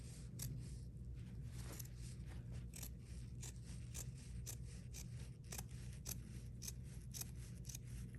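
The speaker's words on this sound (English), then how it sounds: "I'm just cutting half of that away" Scissors snip steadily through the fabric seam allowance of a sewing project, a quiet, regular series of crisp cuts repeating close by over a soft background hum.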